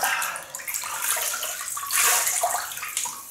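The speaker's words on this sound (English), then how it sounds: "Wet the face." Water splashes and sloshes close by as the face is wetted at a basin before a shave with a 1960s Gillette Fat Boy razor, a steady wet rush with brief bursts, no talking.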